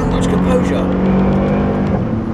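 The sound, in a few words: Mercedes-AMG V8 engine in the new-generation SL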